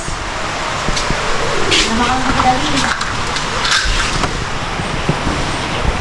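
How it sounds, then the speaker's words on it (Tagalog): Heavy typhoon rain pours outdoors in the early morning as a steady, dense wash of noise. A person talks over it, and a vehicle passes faintly. "malakas pa rin yung ulan"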